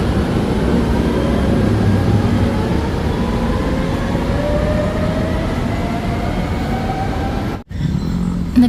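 Metro train ride on the MRT in Manila, a steady loud rumble of the moving car with rising whine tones as it runs, cutting briefly near the end before the noise resumes.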